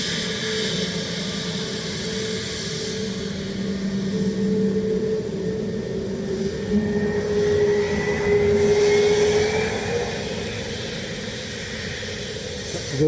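A Delta airliner landing on runway 28 left at Dublin Airport, heard as a steady, moderately loud jet roar with a slowly rising engine whine, continuous and without talk.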